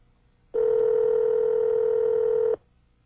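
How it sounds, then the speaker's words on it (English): The car phone in a BMW 7 Series E38 sounds a single steady electronic tone during voice-command dialing, holding for about two seconds against a quiet background. "This model features voice recognition. Name, please. Where a simple command from you puts the phone in service."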